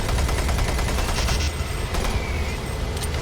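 Rapid weapon fire in the video game Doom 3 BFG, a dense, continuous burst of loud shots with a heavy rumbling low end that carries through the whole stretch.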